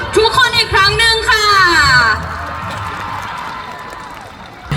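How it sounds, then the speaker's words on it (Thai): Students at a school election campaign assembly shout and cheer loudly for about two seconds, then a softer wash of crowd noise and clapping carries on to the end. "ขอเสียงปรบมือให้"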